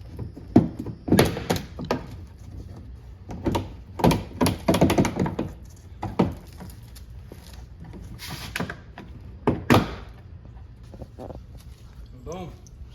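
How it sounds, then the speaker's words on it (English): Plastic clips knocking and thunking as the stock rear diffuser is tugged off a 2023 Dodge Charger, with a series of close, irregular pops and taps, then a quiet pause and a final snap. "we just give this a little tug, and once one side starts to come off, the other side, it should all just pull off pretty easy"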